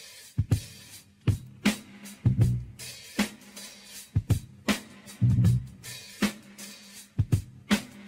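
Sampled drum break from a 1972 record: a loose funk pattern of kick, snare and hi-hat hits in a steady groove, fairly quiet, with no voices over it.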